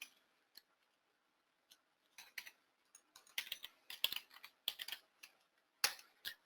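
Computer keyboard typing while entering a command in AutoCAD: scattered single key taps, then a denser run of quick, close clicks with short pauses, fairly quiet, with no talking.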